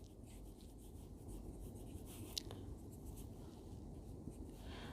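Faint, soft scratching of a pen or chalk writing out a geometry proof, a quiet continuous rubbing texture over low background hiss with one brief sharper tap.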